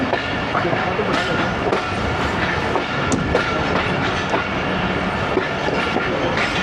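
Train noise on the platform at Qila Sheikhupura junction in Pakistan, steady rumbling and clattering wheels of the Badar Express close by, with a busy crowd and bits of talk underneath.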